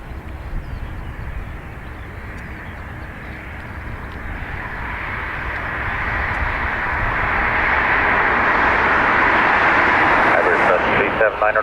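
An Iberia airliner taking off from the north runway at Dublin Airport, its engine roar building steadily from a distant rumble into a loud, sustained roar by the end.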